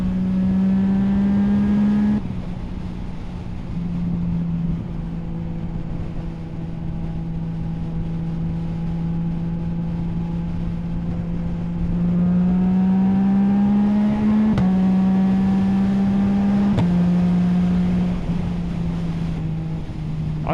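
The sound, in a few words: Yamaha MT07 motorcycle riding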